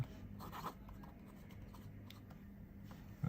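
A fountain pen with a flexible extra fine nib scratches across paper in short, quiet strokes, close up and alone, with soft pauses between strokes.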